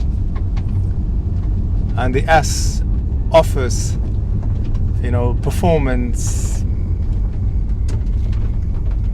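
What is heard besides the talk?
Porsche 911 Carrera S engine and exhaust, standard mode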